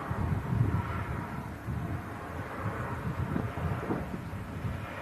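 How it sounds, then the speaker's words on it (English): Wind buffets the microphone at an outdoor airport plane spotting location, a steady low rumbling roar with gusty swells and no voices. "it's getting a bit breezy"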